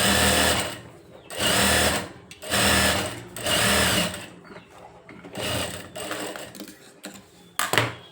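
A sewing machine stitches a lined blouse in several separate runs, each a loud, close whirring burst with short pauses between, and a brief clack near the end.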